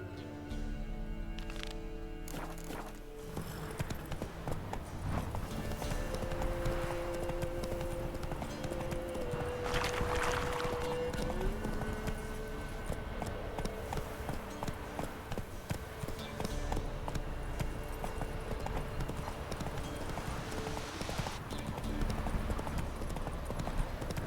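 Roach, the horse in The Witcher 3 video game, gallops with a steady, rapid clip-clop of hooves that runs continuously at moderate loudness, with faint ambient game sound and occasional brief sounds layered over it.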